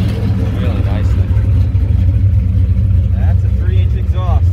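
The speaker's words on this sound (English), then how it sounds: "That's a 3-inch exhaust. I hear that." A 1957 Chevrolet Bel Air with a 3-inch exhaust idles and revs loudly, a deep steady burble close by, with people speaking over it.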